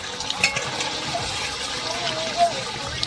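Hot water pours steadily into a pot of village-style duck curry cooking over a wood fire, giving a continuous splashing trickle with a couple of louder gurgles.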